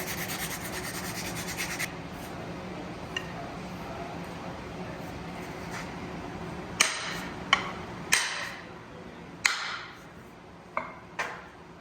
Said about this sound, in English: Do a little final sand, double check it, and then probably set it.